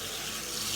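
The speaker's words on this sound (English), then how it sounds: "So just drain the cabbage, put it back in the pan, and again cover in cold water." Cold tap water runs steadily into a pan holding drained cabbage, a continuous broadband splashing rush at moderate level with no pauses across the short stretch.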